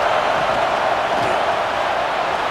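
A football stadium crowd at a Montana State versus Nevada game roars steadily as a broad, sustained wash of noise with no breaks, loud and distant-sounding, cheering to push back the offense.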